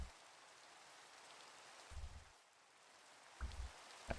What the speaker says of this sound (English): But the newer rain sounds are a lot better.